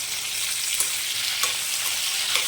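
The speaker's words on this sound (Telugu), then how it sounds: "అయ్యాక టమాటా ముక్కలు వేసుకున్నామండి." Tomato pieces frying in a pan produce a steady, close hiss of sizzling oil with a few soft stirring bumps, no voices.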